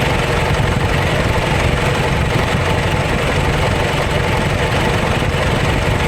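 A John Deere JD410 backhoe's diesel engine idles steadily and loudly at close range, a continuous low rumble with slight knocking vibration and no talk over it.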